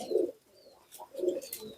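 Domestic pigeons of young prospect stock cooing close by, two soft low rolling coos separated by a short pause, with faint chirps from other birds in the background.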